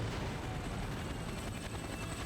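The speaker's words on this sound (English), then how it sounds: "The helicopter suddenly attacked from an unexpected direction and the vehicle sways alarmingly" A helicopter in the Persona 4 Arena Ultimax fighting game: a steady, dense rotor and engine roar, continuous and moderately loud with slight fluttering pulses.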